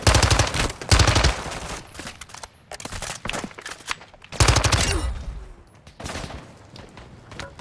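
Bursts of rapid automatic gunfire in a Call of Duty DMZ match, loud clustered volleys separated by quieter gaps with scattered single shots, close and punchy.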